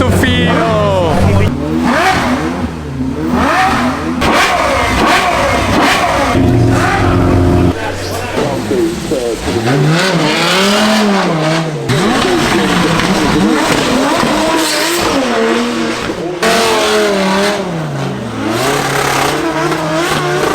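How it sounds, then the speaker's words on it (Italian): Drift cars at the Goodwood Festival of Speed rev hard and squeal their tires, with loud engine sweeps rising and falling repeatedly and sustained squeals close by. Voices talk underneath. "le macchine da drift sono le macchine da drift"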